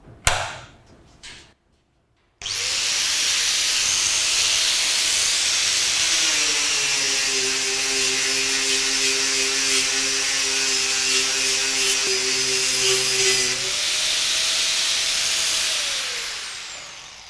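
A Bosch 4-inch angle grinder with a fiber sanding disc whines up to speed and grinds against metal in a loud, steady hiss lasting over ten seconds. The grinding drops briefly, then the motor spins down at the end.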